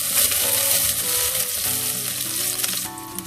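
Roughly chopped green chilies, garlic and herbs sizzling in hot oil in a pan while being stirred, a steady close hiss with light scraping throughout.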